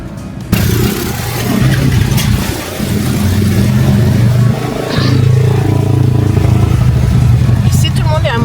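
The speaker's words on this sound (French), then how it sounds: "Ici, tout le monde est à moto." Motorcycle engines on a street in the Dominican Republic, where everyone rides: a loud, close, sustained engine drone with rising revs and shifting pitch, continuing throughout after a brief quieter start.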